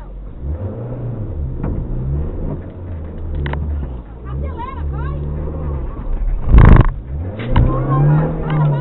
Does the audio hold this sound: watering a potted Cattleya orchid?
no